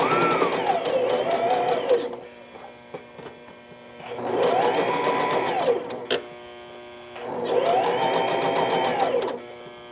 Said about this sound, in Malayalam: നെക്ക് സ്റ്റിച്ച് ചെയ്യുകയാണ്.